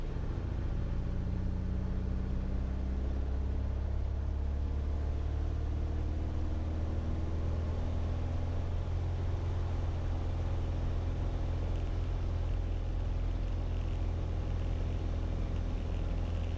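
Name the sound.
light turbo aircraft engine during takeoff roll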